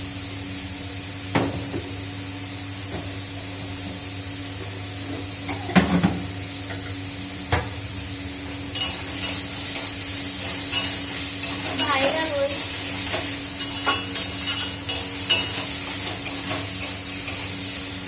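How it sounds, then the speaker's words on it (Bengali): Potatoes fry in a pan on a gas stove, a soft sizzle swelling and spitting louder in the second half, with scattered utensil clinks, a steady background hum and a brief voice. "এই যে আলু ভাজা করে নি"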